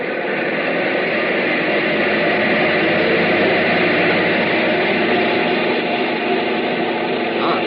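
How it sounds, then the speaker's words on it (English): Aircraft engine number one runs up to maximum RPM on a test block, heard as a loud, unbroken roar that holds steady throughout, with the muffled, band-limited quality of a 1942 radio broadcast. "Bring number one engine up to maximum RPM."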